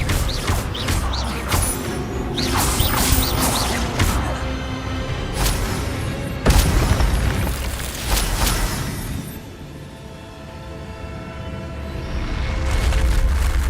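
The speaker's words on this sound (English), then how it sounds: "Expelliarmus! Incendio! Expelliarmus!" Spell effects for Expelliarmus and Incendio crash and boom in the Hogwarts Legacy video game, layered with thuds and bright magical bursts over a dense, busy mix. The loudest impact lands around the middle, then the action eases and swells again.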